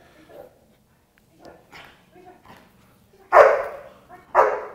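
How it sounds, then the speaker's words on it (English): A young eight-month-old dog gives two loud, sharp barks near the end, preceded by a few faint softer sounds, close by. "What a big boy bark he's got as well."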